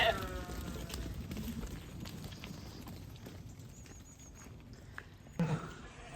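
Sheep, ewes and lambs, bleat during lambing, a few plaintive calls over rustling and shuffling movement at close range, with a louder bleat near the end.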